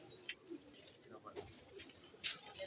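A pigeon coos softly among other pigeons in a bird enclosure, with a few low, rolling coos and some faint chirps against quiet background noise.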